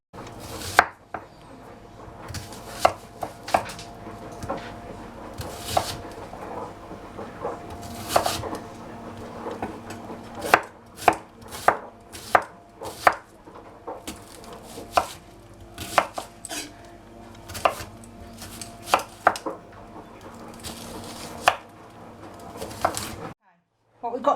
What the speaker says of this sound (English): just keep chopping away until you've chopped up all your onions